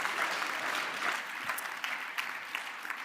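An audience at a European Mobility Week awards ceremony applauds award winners leaving the stage, a steady wash of clapping with a few sharper claps standing out, moderately distant.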